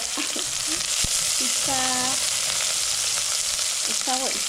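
Spring onion frying in a little oil for noodles gives a loud, continuous sizzle, with occasional wooden fork scrapes and brief tonal squeaks of stirring in the pan.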